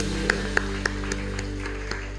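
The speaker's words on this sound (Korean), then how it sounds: "우리 하나님께 감사의 박수 올려드립니다" A church congregation claps during a Korean festival worship service, a steady spread of applause over a low hum, with a few sharp, distinct claps standing out near the start.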